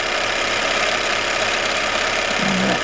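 A Bernina 930 sewing machine runs at high speed on stitch 17, giving a steady, loud mechanical whir with a constant rhythm throughout, close up and without speech.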